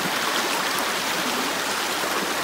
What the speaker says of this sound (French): Écoutez le bruit de la rivière là